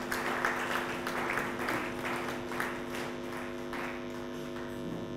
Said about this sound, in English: The louder you clap, the faster she comes up.